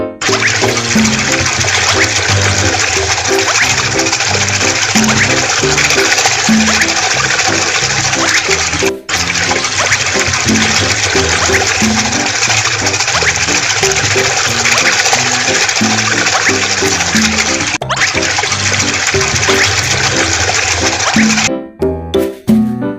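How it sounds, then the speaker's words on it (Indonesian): Concrete pours into a floor slab in a BabyBus Kiki building game, a loud continuous gushing, pump-like rush of liquid that runs almost unbroken, with two short dips and a sputtering finish and no talk. "Tuangkan beton ke dalam lempeng lantai."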